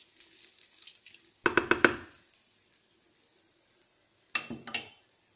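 Two short bursts of clattering, scraping metal as spinach and split moong dal are stirred in a pan over medium heat, separated by a quieter stretch of low background hiss.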